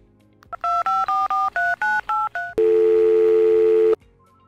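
Telephone keypad DTMF tones as a number is dialed to book a doctor's appointment: eight quick paired-tone beeps in steady rhythm, then a long steady ringback or dial tone for over a second, loud and clear with no talk.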